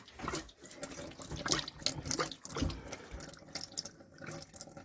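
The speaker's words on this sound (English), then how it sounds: "hey, hey, there goes the water." Water gushes from the tap of a caravan hot water system being purged after winter storage, a continuous splashing flow that sputters and surges unevenly as air escapes, close and fairly loud with no talk.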